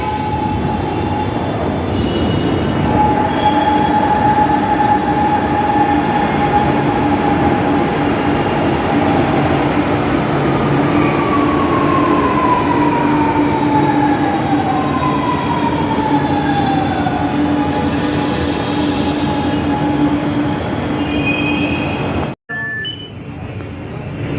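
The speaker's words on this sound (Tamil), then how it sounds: "இதுதான் மெட்ரோ ட்ரெயின் பாருங்கள் எவ்வளோ கம்பீரமாக அழகாக வருது" A metro train pulls into a station with a steady, loud rumble of wheels and motors, rising and falling squeals and tones from the rails, and no talk before a sudden cut near the end.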